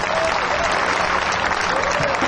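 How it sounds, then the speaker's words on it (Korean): Crowd at a kickboxing international event applauding actors being introduced, loud, dense clapping held steady throughout, with voices faintly underneath. "박수 좀 부탁합니다."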